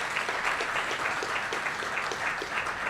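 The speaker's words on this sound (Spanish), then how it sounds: "Fuerte el aplauso, por favor." An audience claps steadily at a mental health talk on schizophrenia, a fairly distant, continuous patter of applause with no voices over it.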